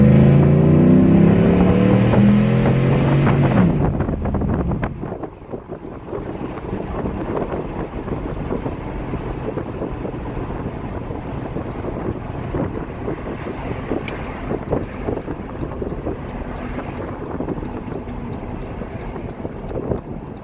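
A 2010 Ram 1500 with the 5.7 engine on a Rancho lift pulls at full throttle, a loud steady engine roar with strong rumble and wind buffeting that drops slightly after the first few seconds and holds on, no talking.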